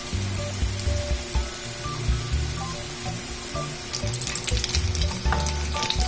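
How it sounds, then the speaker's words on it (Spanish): Beef milanesa fries in a hot pan over medium heat, giving a steady sizzle with brief crackles and faint clinks. It carries on alone at moderate loudness, with no talk. "vamos a agregar la milanesa y le vamos a poner a fuego medio para que se alcance a cocer bien"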